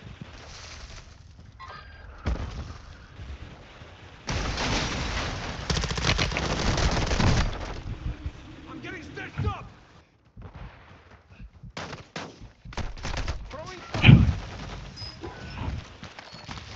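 Gunfire in the video game Warzone 2 Plunder mode, with a loud burst of shots near the middle and sharp scattered blasts later, amid quieter game noise.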